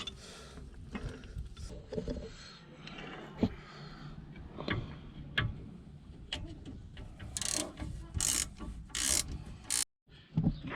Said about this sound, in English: I'm just going to use a ratchet on the bottom.